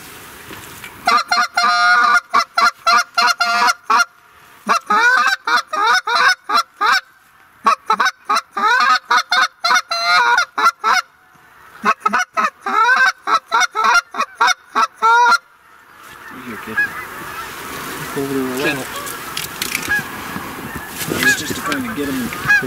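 Large flocks of geese honk nearby during a hunt, first in loud repeated bursts with short gaps, then as a denser, continuous chorus of calls.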